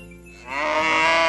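A mother cow with her nursing newborn calf gives a long, loud moo up close, starting quietly and swelling into a sustained full-throated call.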